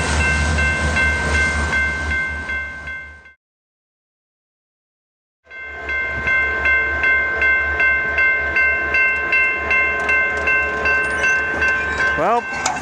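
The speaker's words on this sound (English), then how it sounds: "An SD-70M and an SD-70 Ace with Union Pacific's 2022 livery bring up the rear." A Union Pacific freight train with SD70M and SD70ACE locomotives passes close by, loud rumbling with rhythmic wheel clatter and a whining tone, briefly cutting out mid-clip before resuming.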